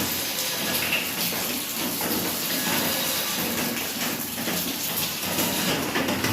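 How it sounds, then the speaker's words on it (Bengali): Steady rain falls continuously, a dense broadband hiss with no gaps, fairly close and loud throughout. "আর এইদিকে বৃষ্টি শুরু হয়ে গেছে"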